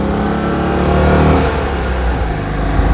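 Citroen 2CV flat-twin engine running, heard from inside the car as a loud, steady mechanical drone with a rough throb that swells slightly as it revs.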